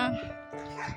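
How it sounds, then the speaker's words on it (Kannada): A brief burst of yips and barks from two dogs in a mango and coconut orchard, fairly close, with a voice-like quality mixed in. "ಈ ಕಡೆ ಎರಡು ನಾಯಿ ಬೊಗಳ್ತಾ ಇದೆ"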